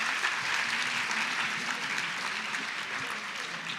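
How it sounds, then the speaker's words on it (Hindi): Steady, moderately distant applause from an auditorium audience welcoming arriving officials at Divya Kala Shakti 2022, a disability arts event, sustained evenly throughout without speech. "हम दर्शकों से अनुरोध करते हैं कि आपकी तालियों के साथ उनका स्वागत किया जाए"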